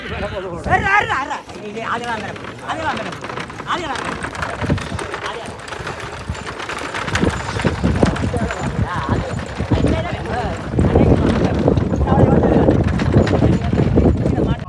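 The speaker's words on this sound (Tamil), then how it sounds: "மாட்டு வண்டி சவாரி போட்டி 2026" Bulls' hooves and wooden carts rattle and pound along the track at a large bullock cart race in Vaddukoddai, Jaffna, a continuous rumbling clatter mixed with crowd noise and loud commentary throughout.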